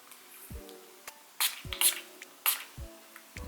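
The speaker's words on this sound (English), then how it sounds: "So I'm just spraying it onto the lace." Wig remover spray is sprayed onto a lace front wig in short close hissing spritzes, several quick bursts with brief quiet gaps and a faint pump click between them.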